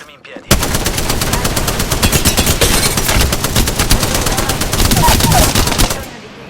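Gunfire in the battle royale game Apex Legends, a loud, close, rapid automatic burst that runs almost unbroken for about five seconds before cutting off, with a brief quiet lead-in.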